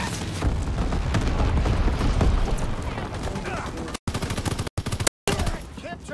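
Mortar rounds and artillery fire in the video game World at War, a dense barrage of booms and rapid gunfire rattling continuously with a few abrupt dropouts, while a radio-style voice talks over it.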